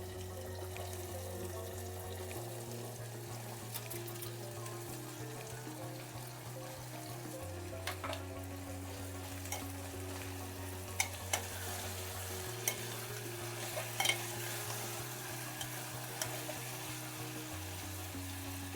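Cluster beans fry in a pan with green chilli as they are stirred, a steady low sizzle running under a faint periodic background hum, with scattered soft scrapes and clinks from the stirring and no talking.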